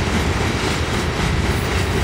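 A CSX freight train with no rear locomotive passes on the tracks, a continuous loud rumble and rattle of rolling railcars without pause.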